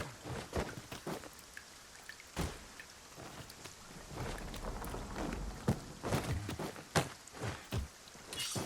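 Rain falling in Dragon's Dogma 2, a soft steady patter with scattered drips and splashes, accompanied by intermittent footsteps and light movement sounds, no voices.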